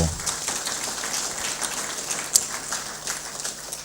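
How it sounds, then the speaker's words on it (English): Web development graduates applaud themselves at their graduation ceremony, a moderately loud, continuous patter of clapping with a few sharper individual claps standing out. "please give yourselves a huge round of applause"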